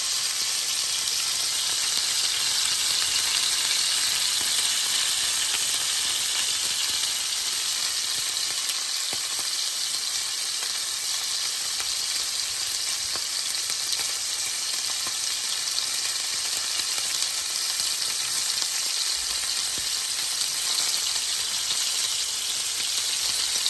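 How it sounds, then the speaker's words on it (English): Pork chops searing in a hot pan give off a steady, loud, hissing sizzle that runs unbroken throughout, close up and with no one talking. "we're just gonna let those go ahead and get a nice sear on them"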